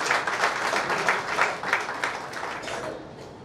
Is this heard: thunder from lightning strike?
no